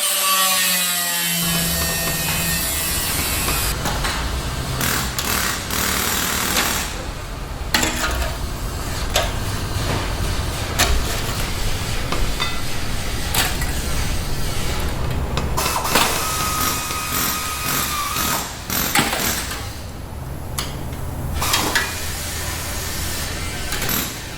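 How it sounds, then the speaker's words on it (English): A big grinder cuts metal on a Holden LC Torana, a loud continuous rasping whine that surges and dips as the disc bites, running steadily for over twenty seconds. "So we'll get the big grinder out and make a mess."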